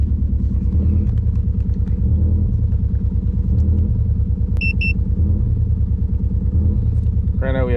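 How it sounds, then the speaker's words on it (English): A Subaru WRX bugeye engine with a fault code runs at a steady, loud, low rumble close by, idling unevenly with a pulsing throb, and a couple of brief high beeps partway through. "As you can tell, the car is hesitating"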